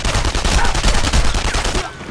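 Rapid automatic gunfire from the World War II shooter video game Enemy Front, a loud continuous burst of closely spaced shots lasting about two seconds before cutting off.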